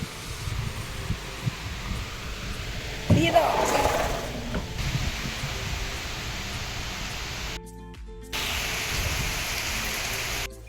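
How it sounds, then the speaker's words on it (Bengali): Broad rushing rain noise from Cyclone Remal fills the background, swelling loudly for a moment, with a voice speaking over it. "ওর তো জুড়ে বৃষ্টি এসে গেল হট করে"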